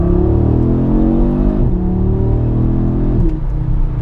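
A new Audi RS3 accelerates hard in second gear, its engine note climbing loud and close from inside the cabin, with a quick gear-change dip and a second rising pull.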